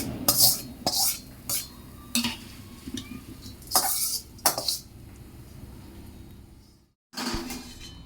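Spiced tempering tipped into a pan of crisp poha chivda and stirred through, giving scattered dry rustles, scrapes and light clinks of a spoon against the pan, with a brief silent gap near the end.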